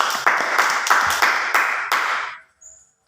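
A small audience applauds two students, clapping in about six rhythmic bursts of dense handclaps, moderately loud and close, then fading into quiet with a faint tone at the end.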